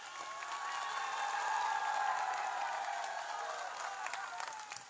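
A crowd at a stage event in Sardarshahar claps and cheers in a sustained wash of applause that swells and then eases, heard a little distant, with voices mixed into the noise.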